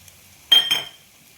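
A spoon stirs frying packet masala, Kashmiri chilli powder, coriander, cumin, chicken masala and garam masala in a pan for chicken curry, giving two quick, close metallic clinks and scrapes in an otherwise quiet kitchen.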